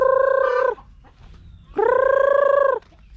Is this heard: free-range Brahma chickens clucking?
yes